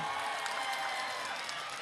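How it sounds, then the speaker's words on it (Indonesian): Crowd applause fills an open village field in Dadap, Indramayu, where thousands gather for an outdoor show, a dense, even roar of many hands clapping at a distance, steady throughout. "Yang sebelah sini tepuk tangannya mana?"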